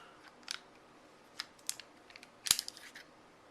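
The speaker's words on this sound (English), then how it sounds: "We're going to go ahead and just pull out the bolt." Bolt being drawn out of a Ruger MKIII pistol on a workbench: a few sharp metallic clicks and slides scattered over a quiet moment, one louder snap near the end, close and crisp.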